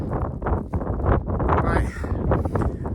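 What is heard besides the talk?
strong wind buffeting a tent on snowy Dartmoor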